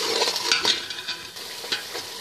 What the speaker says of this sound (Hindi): तकरीबन 2-3 मिनट आपने और इसको अच्छे से भूनना है।